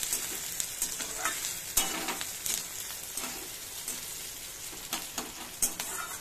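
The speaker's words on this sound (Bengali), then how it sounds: "পেঁয়াজটা ব্রাউন হওয়া পর্যন্ত একটু ভাজবো।" Onion frying in a pan over lowered gas flame, a steady sizzle with repeated scraping stirs and occasional sharp clacks of the spoon against the pan, close and without talk.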